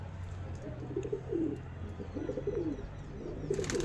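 Pigeons coo in soft repeated rolling phrases close by, several calls in steady succession over a faint background hum.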